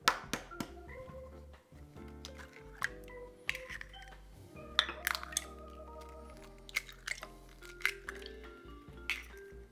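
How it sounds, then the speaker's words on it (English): Eggs are cracked into a container in the kitchen, with sharp taps, clinks against the rim, and wet squishy drips in an irregular sequence, close and fairly quiet. "So to get started, crack your eggs into your container."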